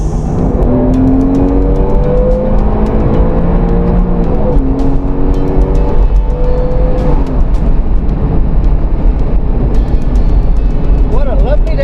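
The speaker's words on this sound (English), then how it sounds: "The sound of that engine is addictive" Porsche Boxster S 986 Tiptronic engine roaring while driving on the road, loud and close, rising through gears with repeated climbing revs and shifts, constant road and wind noise underneath.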